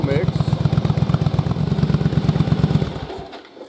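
A Yamaha Virago motorcycle engine on a test rig fitted with dual carburetors revs hard with a rapid, loud pulsing beat, then drops off and cuts out near the end.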